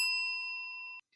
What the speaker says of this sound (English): Nick rings the doorbell to get the attention of the nail salon workers.